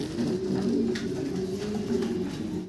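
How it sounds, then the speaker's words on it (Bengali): A pair of Mundian pigeons coo continuously at close range, a low steady rolling murmur that lasts the whole moment with no talking. "এখানে আছে এক পেয়ার মুন্ডিয়ান কবুতর"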